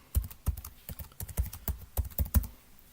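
Keystrokes on a computer keyboard as an email address, name and password are entered into an online account registration form, a quick irregular run of about ten close, crisp clicks.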